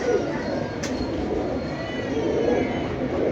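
Soft, low pigeon cooing drifts through a steady, noisy backdrop in a pigeon loft kept for pigeon flying, with one faint sharp click early on and no clear individual calls standing out.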